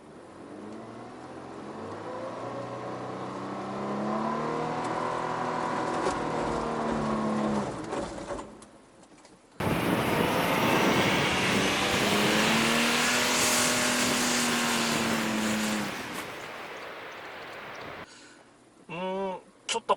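Four-wheel-drive vehicle fitted with tyre chains driving onto a sand dune in New Zealand in second gear: a loud, strained engine drone with rising and falling revs, a sudden surge of roaring, then a brief stop and restart.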